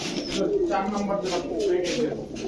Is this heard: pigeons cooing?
yes